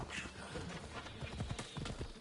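Rhythmic clip-clop of horse hooves trotting in the video game Assassin's Creed Odyssey, steady and continuous, with a faint whinny-like tone in the background.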